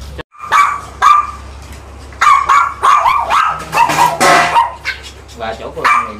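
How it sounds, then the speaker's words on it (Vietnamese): Young Chihuahua dogs bark in a loud, close burst of sharp, high yaps and yips, some overlapping, with a short pause early on and a person speaking among them. "Rồi đây là chó con mới lớn."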